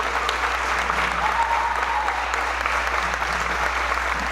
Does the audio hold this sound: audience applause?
yes